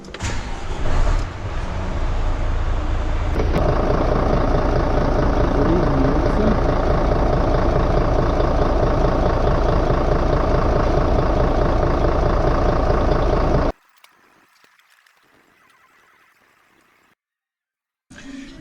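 Truck diesel engine started again and left idling with the compressor unloaded, a loud, steady, low rumbling drone close by for several seconds, then shutting off into near silence with faint background sounds.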